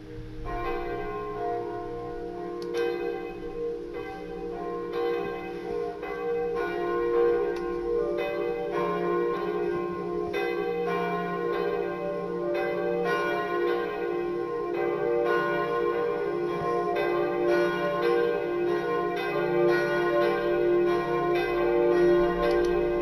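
Church bells ring steadily at Saint-Pierre church, with a second bell swinging into motion and joining the peal; the layered tolling stays loud and continuous throughout, with no voices.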